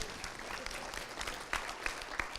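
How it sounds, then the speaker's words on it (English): A conference audience at a science policy Q&A session claps steadily, a dense wash of many hands at moderate distance, fairly quiet, with a few sharper individual claps standing out. "So if I could have a round of applause for that."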